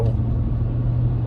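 Cars roll slowly along a city street, a steady low engine rumble and tire drone that holds evenly throughout with no voices.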